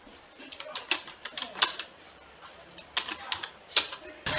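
Clicks of a computer keyboard typing text into Canva, in short irregular bursts of keystrokes, close and moderately loud, with brief pauses between runs.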